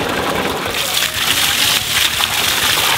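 Water pours steadily from an artificial waterfall into a tortoise enclosure for sulcata and radiata tortoises, a continuous close splashing rush that stays loud and even throughout.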